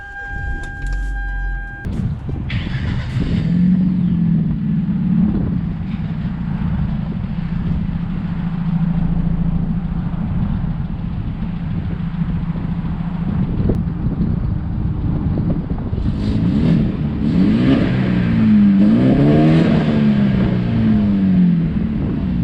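A car engine turns over on a cold, windy day, catching and settling into a steady loud idle, then rising and falling through several revs near the end, with wind noise buffeting the microphone.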